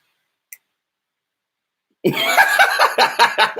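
Near silence with one tiny click, then a burst of loud, repeated coughing in quick rough spasms.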